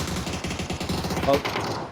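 Rapid bursts of automatic gunfire from the PUBG video game on the Miramar map crackle in quick succession under a commentator's voice.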